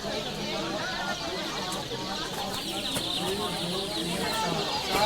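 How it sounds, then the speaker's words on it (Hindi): A crowd of young chicks keeps up a constant chorus of high peeping and soft clucking, close and busy, while people talk steadily nearby over the chirping. "ये मुर्गी के बच्चे आए हुए हैं।"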